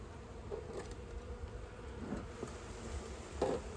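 Honey bees buzz around an open hive with burr comb on top, a faint steady drone close by, with a few louder swells as bees pass near.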